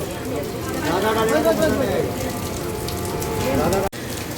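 Steady rain hissing on surfaces nearby, with people talking over it throughout.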